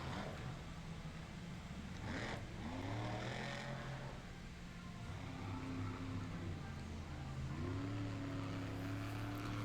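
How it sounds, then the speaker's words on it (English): A monster truck engine roars and revs high in a distant Monster Jam arena, pitch climbing and holding in several sustained surges under a constant crowd-like wash. "Sounds like really high revving up right there"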